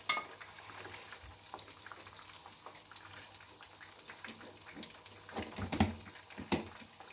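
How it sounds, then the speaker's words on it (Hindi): Vegetable and chicken roll samosas fry in hot oil with a low, steady crackle and occasional bubbling pops that swell briefly near the end; no one speaks. "ये अच्छी तरह फ्राई हो रहे हैं।"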